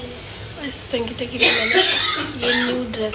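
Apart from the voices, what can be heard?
coughing in the background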